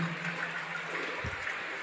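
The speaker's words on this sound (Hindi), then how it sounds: "ये शंकर जी की जटाएं अविरल धारा इसमें बह रही है" An unbroken stream of water flows at the Patala Ganga shrine at Pashupatinath temple in Kathmandu, a steady close rushing gush heard alone without talk for about two seconds.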